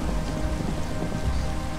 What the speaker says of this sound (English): I could barely see as the rain poured through the gaps in my helmet